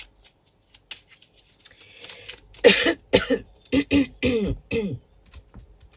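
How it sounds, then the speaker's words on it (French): A burst of several harsh coughs in quick succession, close and loud, after a few seconds of quiet shuffling. "Excusez-moi, je tousse beaucoup."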